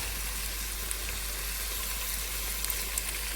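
Tomato pieces sizzle in a pan with ginger garlic paste, a steady close frying crackle with small pops that runs continuously throughout.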